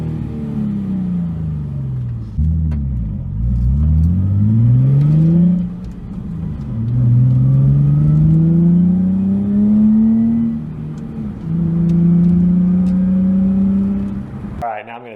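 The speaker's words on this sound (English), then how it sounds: "Here's a interior rev" A Nissan 350Z with an ISR Y-pipe and single GT exhaust revs, heard from inside the car with the windows up: several deep rising and falling engine sweeps, loud and close.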